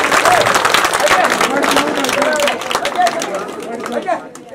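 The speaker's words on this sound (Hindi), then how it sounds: "एक बार फिर जोरदार तालियों से स्वागत।" Loud crowd applause at a village welcome ceremony honouring a young dragon boat gold and silver medal winner, sustained clapping mixed with chatter, fading toward the end.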